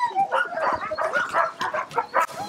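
Sled dogs at feeding time on a Matawin expedition, a dense chorus of close barks, yips and whines overlapping continuously, with human voices mixed in.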